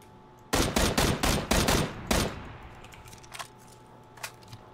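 Rapid bursts of automatic gunfire from a PUBG match, a loud cluster of about six shots in quick succession, then a few fainter distant shots trailing off with no talk.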